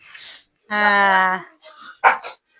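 A dog barks at a family game indoors, one drawn-out bark followed by shorter yips and whimpers, close and loud, mixed with people's voices.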